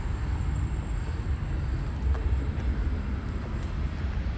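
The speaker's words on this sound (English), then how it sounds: "We got another train going through." A train rolls through town as a low, steady rumble with a faint high tone and a few light clanks on top, heard from a moderate distance and unbroken throughout, no voices.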